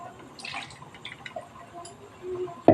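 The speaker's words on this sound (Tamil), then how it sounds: "மிக்சர் ஜாரில் கொஞ்சம் தண்ணி ஊற்றி அதையும் இதில் ஊற்றிடலாம்" Water rinsed from a mixer jar is poured into a pan of green chicken gravy. A soft, faint trickle and splash is heard, then a sharp, louder clunk of the jar at the end.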